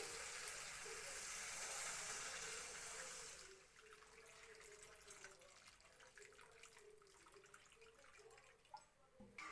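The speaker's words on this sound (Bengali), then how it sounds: "এবার জল দিয়ে দিই" Water pours steadily into a pan of Bengali fish curry for puti fish paturi, a loud continuous gush for about three seconds that then drops to a softer, uneven trickle and splashing.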